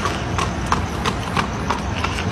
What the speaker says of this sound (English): Se oye como un caballo.